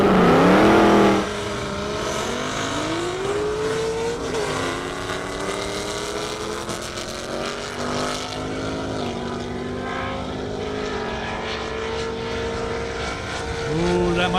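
A Mustang and a Corvette Z06 race down a half-mile airstrip, their engines roaring loud and close with rising, shifting pitch as they accelerate through gears, a broad mechanical drone filling the whole stretch.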